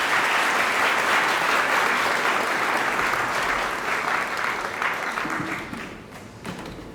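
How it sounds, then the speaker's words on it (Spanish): Sustained audience applause for a speaker at a live public forum on people disappeared over oil in Barrancabermeja, dense clapping that holds steady and then thins out toward the end. "Por favor, un aplauso para Fabián."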